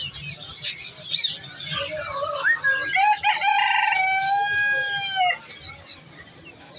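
A rooster crows loudly once at an animal market, a long drawn-out call following brief clucking and bird chatter, with market background noise and a few voices around it.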